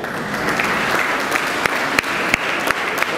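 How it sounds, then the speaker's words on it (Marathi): Steady, dense applause from an assembled audience at a public health camp event, loud and continuous for a few seconds, with occasional sharper individual claps standing out and no speech. "त्याबद्दल आपण सर्वांनी टाळ्या वाजवून त्यांचं या ठिकाणी स्वागत करूया."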